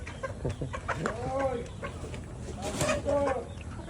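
Backyard free-range chickens cluck and murmur close by in short repeated calls, mixed with people talking nearby.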